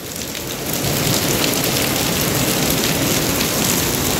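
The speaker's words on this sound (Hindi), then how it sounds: "कसूती तगड़ी बारिश आ रही है" Heavy rain pours down steadily in Jhajjar, a dense, loud hiss of drops hitting surfaces nearby with no break.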